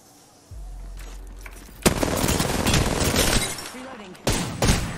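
Apex Legends gunfire arrives as a sharp burst of shots after a low droning hum, followed by sustained noisy firing and a couple of later cracks, with game voice lines mixed in.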